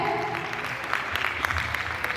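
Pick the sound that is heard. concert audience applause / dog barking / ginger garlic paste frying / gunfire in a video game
concert audience applause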